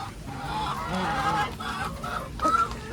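Chickens on a poultry farm clucking, several birds overlapping in a continuous busy chatter of close clucks and short calls, with no talking.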